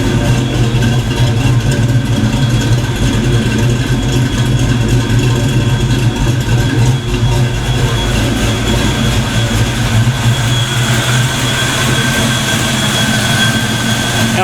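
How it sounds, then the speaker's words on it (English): A car engine idles with shimmed rockers and bigger injectors, giving a steady rumbling drone with a fast, even pulsing. It is loud and close, with no talk over it. "Car is idling a lot better, man."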